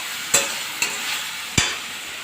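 Fenugreek leaves (methi saag) frying in a pan with salt and turmeric, heard as three sharp scraping stirs over a steady low sizzle, close and fairly loud, no voices.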